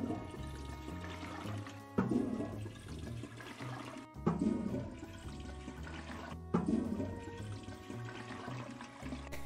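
Cartoonish toilet flushes from the Toilet Flushing Simulator video game, three whooshing rushes of water about two seconds apart, layered over steady game background music.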